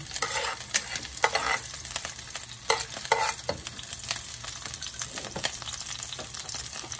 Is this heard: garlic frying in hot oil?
yes